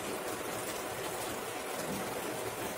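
Steady, soft rainfall hisses evenly without pause, a diffuse wash of droplets with no voices.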